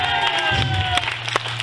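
A crowd at a Saint-Jean 2014 celebration claps and cheers in a short, fairly loud burst of mixed clapping and voices.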